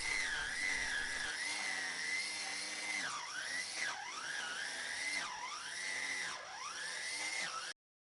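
A Ryobi One+ 18V cordless edger running on a 1.5 amp hour battery cuts grass in a rough yard, a loud continuous high whine that dips and recovers repeatedly as the blade bites into turf.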